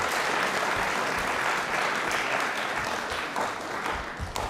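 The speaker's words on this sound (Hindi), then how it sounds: "एक बार तालियां इस डिपार्टमेंट के लिए जोरदार वाली होनी चाहिए" Loud, sustained applause from a studio audience at a televised quiz show, a dense steady patter of many hands clapping for about four and a half seconds, easing slightly toward the end with no voices over it.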